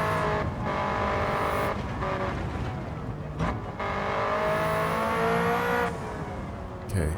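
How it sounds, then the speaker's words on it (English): A car engine in a video game drones and revs up and down through gear changes, with tire noise and rushing wind, loud and continuous. "you hear more of the wind noise, you hear more of the engine, the tires, everything"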